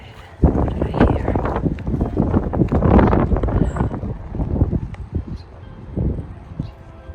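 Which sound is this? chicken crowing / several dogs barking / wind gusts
wind gusts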